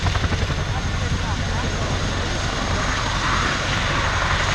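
Chinook twin-rotor helicopter manoeuvring at the RIAT 2024 air show, a loud continuous rumbling roar with rotor throb, heard under a commentator's voice over the public address.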